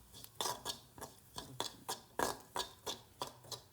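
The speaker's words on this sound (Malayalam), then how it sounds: "ഇളക്കിക്കൊണ്ട് ഞാൻ കരിയരുന്നു" Grated coconut being stirred and roasted dark in a pan for Kerala ulli theeyal, a brisk series of about a dozen dry scraping strokes at an even rhythm, close and quiet, with no talking.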